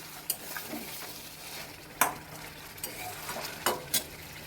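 Mutton frying in a pan, a low steady sizzle with a few sharp scrapes and clacks of a spatula as the meat is turned, close and fairly quiet.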